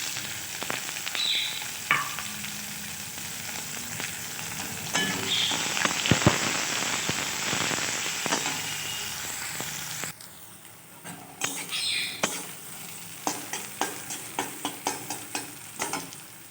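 Vegetables sizzle and crackle in a hot pan while a utensil scrapes and stirs, followed by a run of sharp, rhythmic scraping clinks.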